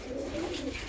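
Pet pigeons cooing softly in a short, low, throaty burst, close by and on their own with no talk.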